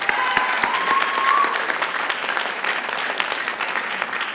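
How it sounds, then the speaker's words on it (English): An audience at a school writers expo bursts into sustained, dense applause that stays loud and even throughout, with no voices over it. "Let's all give a huge round of applause for the amazing Miss McLean."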